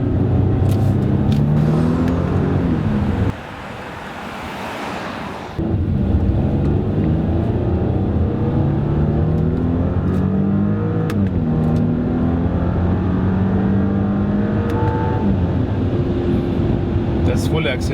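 Audi Q8 SUV accelerating at full throttle, a steady loud engine drone with rising gear sweeps from inside the cabin, briefly muffled midway, while a person talks over it.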